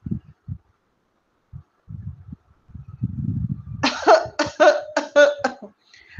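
A man coughs, first soft low hacks spaced apart, then a louder, harsher burst of several quick coughs up close.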